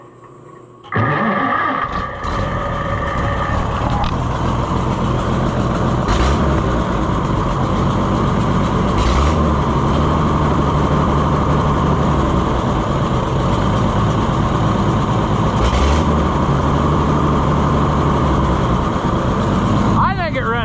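A junkyard engine in an Oliver Super 77 tractor cranks, then catches and runs at a steady loud rumble, held close, with a brief throttle rise near the end.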